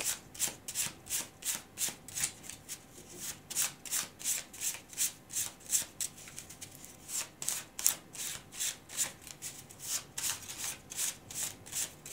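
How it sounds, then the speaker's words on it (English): A tarot deck is shuffled close by in a brisk, regular rhythm of crisp papery bursts, about two per second, repeating steadily for several seconds without any voices. "Let's take some cards from this Feelings and Messages deck."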